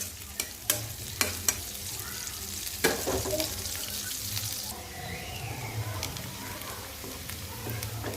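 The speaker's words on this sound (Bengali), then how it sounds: "এখন আমি রুই মাছ ভোনা করব সেটার জন্য পেঁয়াজ আর তেল দিলাম পেঁয়াজগুলো ভাজবো" Onions frying in oil in a pan for rohu fish curry, a continuous close sizzle broken by a few sharp spatula clicks and scrapes early on, with steady stirring throughout.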